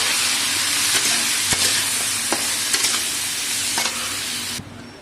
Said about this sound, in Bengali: এখানে অল্প করে নুন দিয়ে দিচ্ছি অল্প হলুদ দিয়ে দিচ্ছি দিয়ে এইগুলো আমি ভেজে তুলে রাখবো